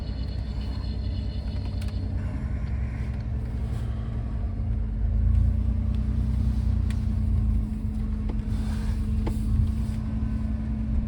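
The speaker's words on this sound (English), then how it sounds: "Get the old farm truck fired up." Old farm truck engine idling steadily with a deep, constant rumble and low drone, rising slightly midway as if revved, heard close and alone with faint outdoor clatter.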